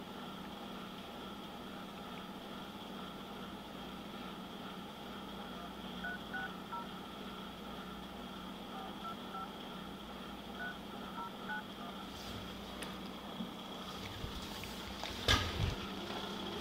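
A phone is dialed inside a vehicle during a police stop, its faint tones sounding over a steady engine hum, with a louder clatter near the end.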